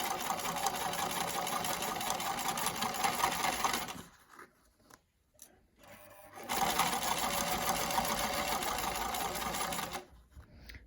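A sewing machine top-stitches around a fabric face mask in a quick, steady mechanical whir that runs for about four seconds, stops briefly, then starts again for a second long run.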